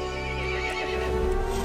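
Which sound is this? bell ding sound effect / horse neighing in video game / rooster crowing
horse neighing in video game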